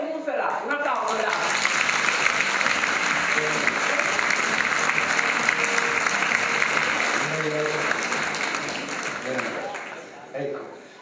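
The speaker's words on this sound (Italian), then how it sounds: "Un applauso da." Sustained audience applause fills an award ceremony hall for the 47th Acqui Storia prize, steady and dense for about ten seconds before tapering off at the end.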